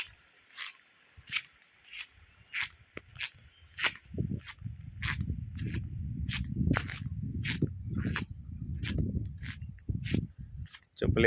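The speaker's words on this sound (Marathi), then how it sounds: "चप्पलेचा आवाज येतोय, चप्पल ओली झाली असल्यामुळे." Wet sandals squelching and slapping with each step on a rainy morning in Konkan, a steady walking rhythm close by over rushing water and rumble.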